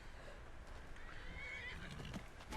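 A horse in the video game Skyrim neighs in a steady whinny set against continuous in-game ambience, with faint hoof clip-clops mixed in and no speech over it.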